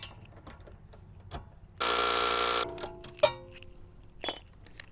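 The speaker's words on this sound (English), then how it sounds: "We just got to put the brand new nuts supplied by VooDoo on here, and then we're going to torque her down." Ratchet wrench torquing new VooDoo locking nuts onto aftermarket lower control arms on an Acura RSX, a loud, dense burst of rapid clicking lasting under a second, followed by a few scattered metallic clinks and taps.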